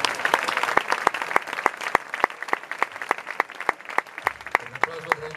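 Concert audience at a benefit evening clapping, sharp claps settling into a rhythmic beat, steady and close, with a voice briefly audible toward the end.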